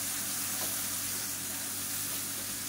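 Boiled chickpeas with masala being stir-fried in a pan for sundal give off a continuous, even sizzle with faint stirring, no voices over it.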